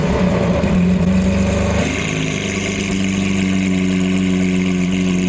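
A tuned, straight-piped Lamborghini Aventador SV roars loudly nearby, a hard rev settling into a deep, steady idle rumble.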